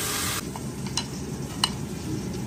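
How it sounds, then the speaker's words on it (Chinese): Fish fries in hot oil in a wok in a home kitchen, giving a steady close sizzle with a few sharp crackles and pops. Nobody speaks. "差不多煎着两面金黄，咱给它拿出来"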